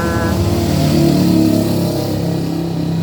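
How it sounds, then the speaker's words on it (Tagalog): Several loud road vehicles pass close by on a busy road, engines droning and rising in pitch as they go past, with no talk over them. "Padaanin muna natin yung mga sasakyan, grabe ang ingay."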